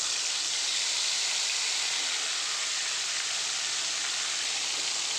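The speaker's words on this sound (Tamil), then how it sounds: "தக்காளியும் ஊற்றிடுறோம்." Chopped tomatoes added to a hot pan of tempered oil for a tomato thokku, giving a steady, soft hissing sizzle that stays even and unbroken throughout.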